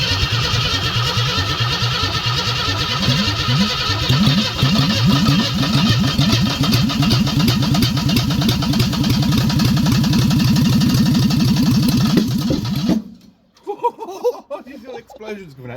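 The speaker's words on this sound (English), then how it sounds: "These little explosions coming out the exhaust." A Ford Cortina Mk4 Ghia 2.3 V6 under restoration cranks and fires up, then runs roughly with loud, rapid exhaust pops and sputters close by before cutting off abruptly, with voices afterward.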